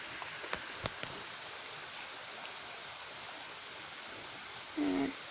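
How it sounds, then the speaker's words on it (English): Steady rain falling outdoors, a dense even hiss with a few close drips and taps early on, continuous throughout and fairly near. "I do like the rain actually. Something soothing about rain."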